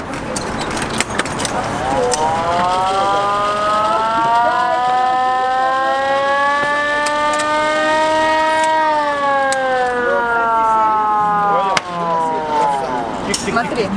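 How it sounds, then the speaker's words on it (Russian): A hand-cranked military siren winds up to a loud, close wail, holds a sustained rising tone, then sweeps down and falls away. "Военная сирена, которая заводится с руки"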